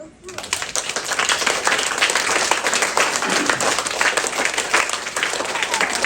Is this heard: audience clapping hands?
yes